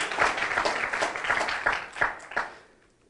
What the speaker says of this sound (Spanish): strong applause.